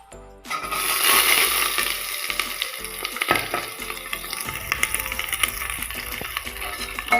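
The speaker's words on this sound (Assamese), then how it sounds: "এতিয়া মই কাটি থোৱা পিঁয়াজখিনি দি দিম" Chopped onions go into hot oil already seasoned with bay leaves and dried chilies for a jackfruit curry, setting off a sudden loud sizzle that stays strong, with faint clinks of stirring underneath.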